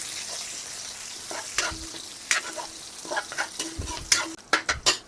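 Onions go into a pan of golden fried garlic and sauté with a soft continuous sizzle, while a spoon scrapes and taps the pan in a series of sharp, irregular stirring clicks.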